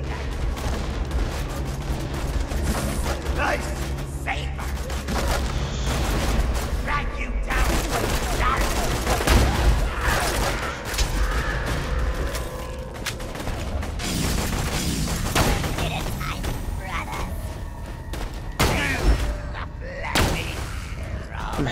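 Gunfire in the video game Borderlands 2, with dense, loud bursts of shots, booms and crashing impacts running almost continuously, mixed with game effects.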